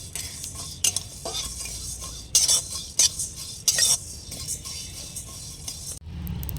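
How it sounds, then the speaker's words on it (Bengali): Fennel and coriander seeds dry-roast in a dry wok for a chilli pickle, with a soft sizzle and crackle under repeated scraping strokes and sharp clinks of a spoon against the metal. "মশলাটা চটর পটর হচ্ছে, তার মানে আমার মশলা ভাজা হয়ে গেছে"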